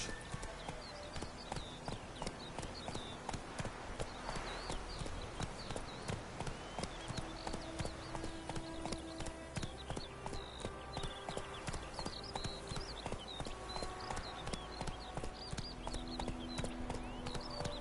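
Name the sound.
Roach the horse's hooves clip-clopping, from The Witcher video game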